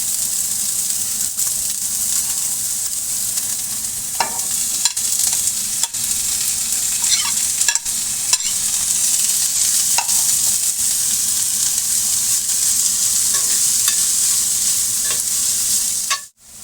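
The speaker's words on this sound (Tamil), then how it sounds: "வெஜிடபிள்ஸ் எல்லாம் போட்டுக்கலாம்." Chopped vegetables with a green chilli saute in a pan for an egg omelette, making a loud, continuous sizzle with scattered pops and soft stirring clicks that cuts off abruptly at the end.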